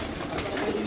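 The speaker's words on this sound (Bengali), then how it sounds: "এই হইতাছে কবুতর।" Pigeons coo close by in a short, soft burst, a few throaty calls with faint background noise.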